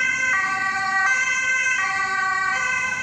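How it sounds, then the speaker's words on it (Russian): An ambulance siren in the Netherlands wails steadily in a repeating two-tone pattern, loud and close over a low hum of traffic. "Ой, все-таки скорая"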